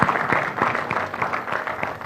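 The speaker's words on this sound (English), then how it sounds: "a round of applause for the journalists here" Short burst of audience applause for journalists at a presidential nomination media chat, many hands clapping fairly close and lively over about two seconds.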